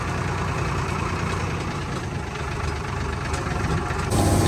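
A tractor engine idles at a wheat harvest beside a combine harvester, giving a steady low diesel rumble with a faint knocking texture, close and constant, and growing slightly louder near the end.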